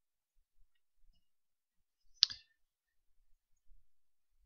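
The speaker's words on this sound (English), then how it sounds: "you're going to click Add New" A computer mouse gives a single crisp, close click, with a few faint ticks before and after in an otherwise quiet room.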